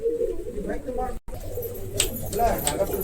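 A favourite pigeon in a racing loft in Dharwad, giving close, soft repeated coos while someone talks over it.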